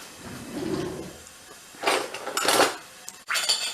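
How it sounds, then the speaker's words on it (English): A spoon clinks and scrapes around a bowl while dandelion pellets melt. The stirring comes in uneven bursts of knocks and rattles, close by, and no one talks. "So Connor's going to stir it now until the pellets have totally melted."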